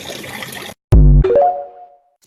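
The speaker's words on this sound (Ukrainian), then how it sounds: "Отак так ми набираємо воду" Water is drawn into a container in a short gush, then the filling tone rises in pitch as the vessel fills before it stops, with no talking.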